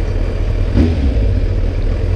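A motorcycle engine idles and rumbles, recorded close to the muffler end with a sponge-wrapped microphone, a loud steady low exhaust drone with a slight swell in the middle.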